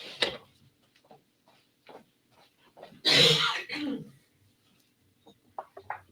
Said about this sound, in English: but I have to go cough.